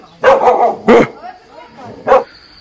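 A dog barking on a staircase in Sikkim, three loud close barks in quick irregular bursts with quieter sounds between.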